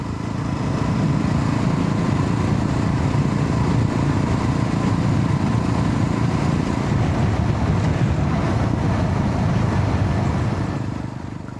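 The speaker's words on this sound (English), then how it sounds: "The bike is quite stable, nicely accelerating, has no issues at all." A Yezdi Roadster motorcycle rides along a village road on a lake trail near Lonavala, its engine droning steadily and loudly throughout, mixed with wind rush and no pauses.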